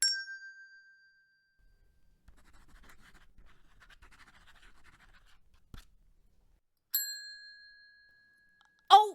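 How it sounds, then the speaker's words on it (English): A quiz answer bell rings out clearly with a bright, decaying ding, first at the start and again near the end after a stretch of faint scratching, with a short knock in between. "we've heard the bell"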